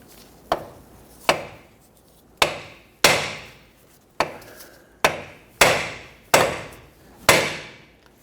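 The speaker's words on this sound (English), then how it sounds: "you can use a hammer and you're going to strike here on the knuckle" Nine sharp metallic-wood hammer strikes on the steering knuckle of a 2006-2014 Honda Ridgeline, loud and close, spaced unevenly about a second apart, each ringing briefly before the next blow.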